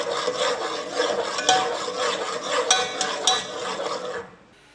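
Chopped ginger and green chili with salt are stirred in a pot with a utensil, giving a close run of gritty scraping and rubbing strokes that stop abruptly just before the end.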